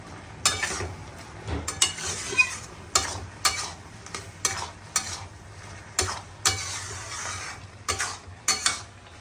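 A spoon stirs vegetarian banana flower curry (mochar ghonto) with garam masala and ghee in a pan, giving a dozen or so close, rhythmic scraping strokes over a faint sizzle, with no talking.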